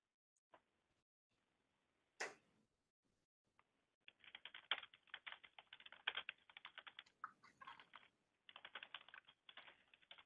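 Computer keyboard typing during an online Teams meeting: a few isolated clicks, then rapid bursts of key taps in quick irregular runs, close and fairly quiet with no speech.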